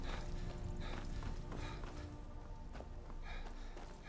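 Horse hooves clip-clop steadily in Skyrim, a dense, continuous run of hoofbeats at moderate loudness with busy game sound behind and no talking.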